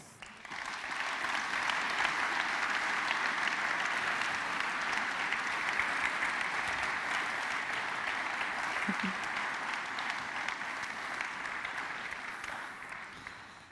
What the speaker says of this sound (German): begrüßen die 5 Gäste doch mit einem herzlichen Applaus